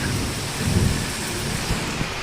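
Steady heavy rain pours at a creek in Konkan during fishing, with a low rumble of thunder swelling briefly beneath the constant hiss.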